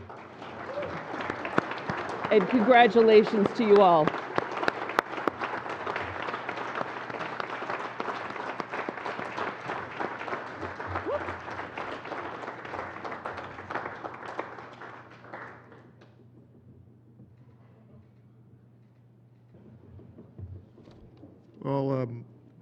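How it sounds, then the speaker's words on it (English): A graduation ceremony crowd gives honor society inductees a hearty round of applause that swells early, holds for several seconds, then thins out and fades, with someone speaking over the tail and again afterward. "So please give them a hearty round of applause."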